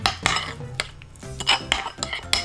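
A spoon clinks and scrapes against a bowl while mixing a thick Korean seasoning sauce of chili flakes, minced garlic, fish sauce, oyster sauce, doubanjiang, ssamjang and sugar, a quick series of close, sharp taps.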